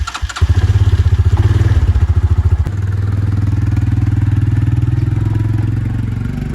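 An engine sputters and catches after starting, then settles into a loud, steady low rumbling idle close by, with uneven chugging at first.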